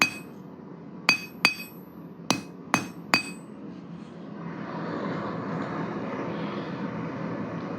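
Five sharp ringing hammer blows on round stock at a blacksmith's anvil while a taper is drawn out, struck in an uneven rhythm, close and loud. Afterwards a low steady roar follows, like a forge fire or blower.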